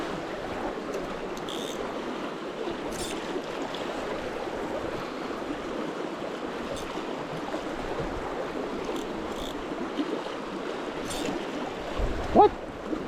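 The Russian River in Alaska flowing steadily, a constant close rushing wash of water with a few faint clicks and a brief bump near the end.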